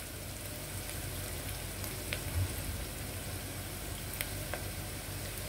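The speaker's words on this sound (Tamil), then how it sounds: "நல்லா ப்ரௌன் கலர் வர வரைக்கும் வதக்கிக்கலாம்." Onion sautéing in a pan for meal maker biryani, a soft steady sizzle with a few faint scraping stirs, fairly quiet and alone.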